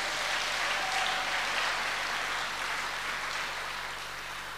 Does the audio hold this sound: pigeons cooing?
no